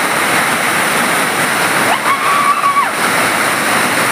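A hidden hillside waterfall in the hills near Sule village, Kolhapur, rushes with a constant close, loud hiss of falling and splashing water, unbroken throughout with no voices.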